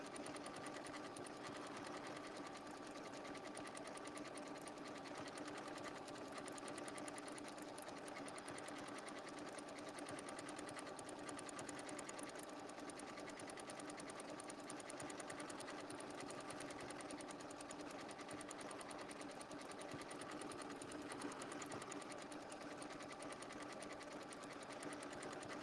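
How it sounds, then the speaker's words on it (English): A sewing machine stitches binding with a circle sewing tool, running as a steady fast mechanical whir and rapid needle patter, close and continuous without pause, with no talking. "Not only just attach it, but stitch it down."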